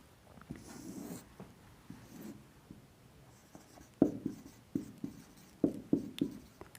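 Pen or marker strokes on a board or paper while a chemical equation for balancing iron, hydrogen and oxygen compounds is written out, a series of short scratchy taps and scrapes, close and fairly quiet, with no talk.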